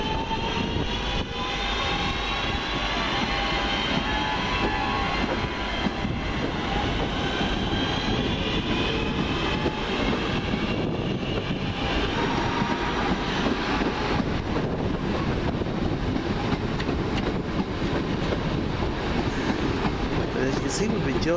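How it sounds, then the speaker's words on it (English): A London Midland passenger train pulls out of Four Oaks station on a service to Redditch, giving a steady, loud rumble of rolling wheels and motors that runs unbroken for about twenty seconds. "Now off with the 1247 London Midland service from here to Redditch."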